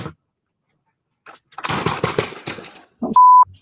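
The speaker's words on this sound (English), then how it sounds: "A doorbell camera captured part of the gunfire." Gunfire captured by a doorbell camera: a rapid cluster of sharp popping shots in a dense burst, then a couple of further bangs and a short electronic beep, fairly loud against otherwise quiet surroundings.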